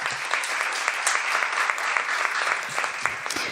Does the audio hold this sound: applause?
yes